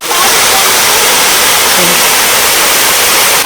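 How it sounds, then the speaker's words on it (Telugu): Siddaramappa Kolanu waterfall at Srisailam, fed by hill water through tree roots, pours in a loud, dense, unbroken rush heard up close with no other sounds. "ఈ జలపాతంలో 365 రోజులు అన్ని కాలాలలోనూ నీరు ప్రవహిస్తుంది."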